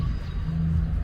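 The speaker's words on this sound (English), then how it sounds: "that's the sound of the D train." A New York subway D train passes near the 9th Avenue station in Brooklyn, heard outdoors as a loud, steady low rumble that fills the short moment.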